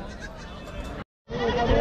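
A goat bleats loudly and close at a large goat and sheep market in Chakan, Maharashtra, with two drawn-out wavering calls broken by a brief gap.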